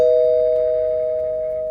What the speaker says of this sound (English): The doorbell is ringing